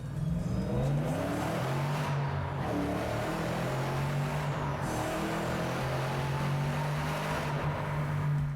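A car engine running under load on a chassis dynamometer, a loud, steady drone with strong low harmonics that holds its pitch for the whole stretch, with no voices.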